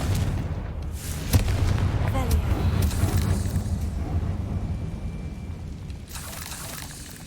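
A Confringo fire-blast spell explodes in the video game Hogwarts Legacy: a sharp, loud burst early on gives way to a heavy, sustained rumbling roar that slowly fades, with faint voice-like sounds beneath.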